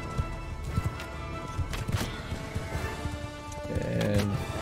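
Horses gallop through mounted combat in the video game Mount and Blade Bannerlord, a steady run of hoof clops under clashing, crashing battle noise and a brief whinny, all fairly loud and busy, with no talk.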